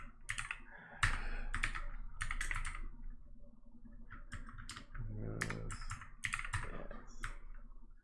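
Fingers type on a British-layout computer keyboard, close and crisp, in quick bursts of key clicks separated by short pauses.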